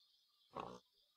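A pig in the video game TechWorld 2 gives one short, quiet grunt, lasting well under a second, over a faint steady background hum.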